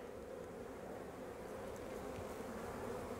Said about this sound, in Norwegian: Så det er rikelig med bier her og yngel i forskjellige stadier.